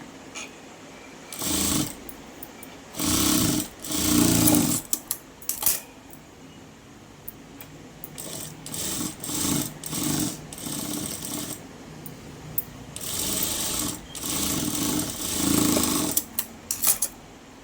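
A sewing machine stitching a princess-cut garment in repeated bursts of rapid rattling, each run lasting a second or two and separated by quiet pauses and light clicks, close and loud.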